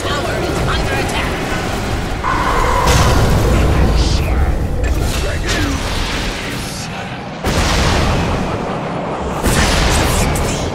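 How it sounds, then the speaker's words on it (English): Booms and blasts from a Dota 2 battle as a tower comes under attack, dense and loud with continuous rumbling impacts, with a game announcer's voice speaking over the fighting. "Dire's top tower is under attack."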